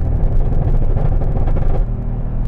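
A Mercedes GLC 63 AMG fitted with tuned downpipes and set to Sport Plus mode gives off a loud, close, continuous engine rumble. The deep drone holds steady and eases slightly toward the end.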